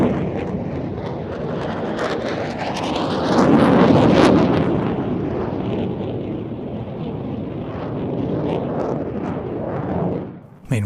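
F-16 fighter jet pulling hard through a 360-degree turn at an air display, a loud, broad roar that swells and fades with heavy wind buffeting on the microphone.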